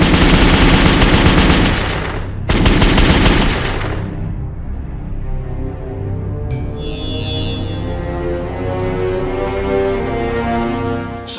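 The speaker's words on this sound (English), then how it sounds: "It's 22 short ammunition, and he asked if I would like to just test one, shoot it and see how it functions" A single sharp crack from a .22 short Remington Rocket cartridge of the 1950s, fired close and loud, followed by a long fading ring and a faint metallic clink.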